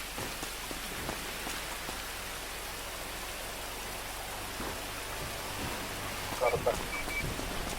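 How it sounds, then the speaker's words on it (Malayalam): Rain falling in a video game match, a steady close wash of patter on surfaces throughout, with brief faint clicks near the end. "ഇവിടെ മഞ്ഞും മഴയോ?"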